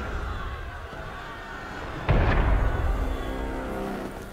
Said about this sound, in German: Kanonenschüsse!